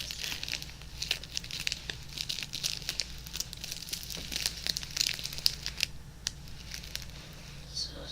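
Sheet of paper crumpled and crinkled up close in a quiet room, a steady run of crisp crackles and rustles with sharp bursts throughout, no talking over it.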